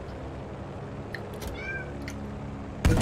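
A cat meows a few times indoors, short rising and falling cries standing out over a steady background hum, followed by a sudden loud rustle at the end.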